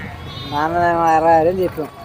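A single sheep bleats close by at a weekly livestock market in Gudur, a wavering, drawn-out call lasting about a second before trailing off.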